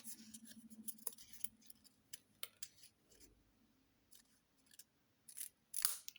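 Scissors snip through paper flaps while a U-bound album is being made, a few short close cuts scattered among soft paper handling and rustles, the loudest snip near the end, with no voices.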